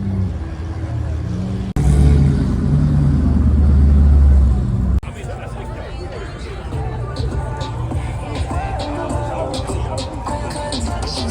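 A car engine revs hard up close for a few seconds as it leaves a car show, a deep roaring rumble, then drops away into outdoor crowd chatter.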